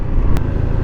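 Road traffic in Baguio with cars and motorcycles, a dense, close engine rumble with a brief sharp hiss partway through.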